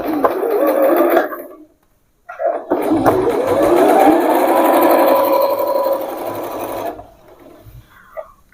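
A sewing machine stitches a straight pant hem folded half an inch, running loud and steady in two long bursts with a short pause between, then stopping near the end.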